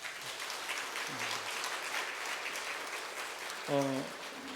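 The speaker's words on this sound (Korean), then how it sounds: "우리 뜨거운 박수로 환영해 주시죠" A church congregation applauds to welcome a newly married couple during a Sunday worship service, a steady dense clapping that runs throughout at moderate distance, with a short tone and a faint voice near the end.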